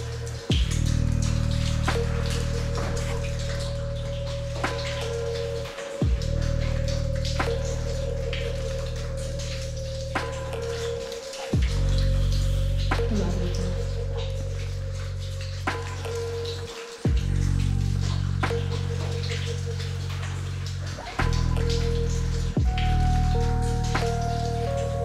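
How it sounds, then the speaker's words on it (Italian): Water drops falling inside a cave on a trek through old grottoes, dripping steadily like rain over a constant low rumble, with scattered close splats. "C'è pieno di gocce che cadono, sembra pioggia."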